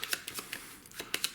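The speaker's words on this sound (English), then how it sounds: "I need to shuffle the rest." Deck of playing cards being shuffled during a Flamme Rouge board game: quick riffling bursts and soft slaps in an irregular rhythm, close and fairly quiet, with no talking.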